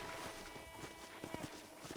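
Horse hooves clip-clop in the Red Dead Redemption video game, a quick irregular patter of steps under game background sound and occasional voices.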